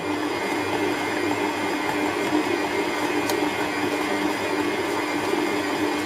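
A stand mixer kneads a small batch of bread dough for pretzels, its motor whirring steadily and loudly with a constant mechanical hum and no pauses, alone without talk.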